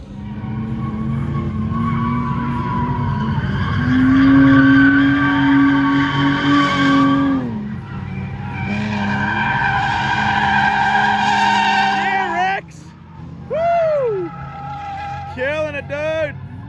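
A BMW drifts on a skidpan with long, loud tire squeals and a revving engine that rises and falls, then sharp chirping skids near the end, all under excited talking.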